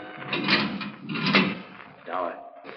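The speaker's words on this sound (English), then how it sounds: "The steel door was being opened." A heavy steel door swings open in an old-time radio detective drama, a single sustained creaking, scraping effect heard fairly close that rises, eases and returns over about three seconds.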